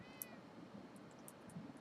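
Cat meows from Minecraft, a brief thin mew over a quiet, slightly noisy background, soft and faint.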